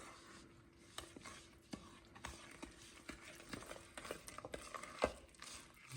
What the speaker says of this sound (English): get this started stirring up here